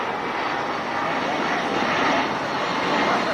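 Hawaiian Airlines DC-10 jet taking off, a loud, steady broadband engine roar with a hissing rush that holds constant and swells slightly throughout, close and unbroken.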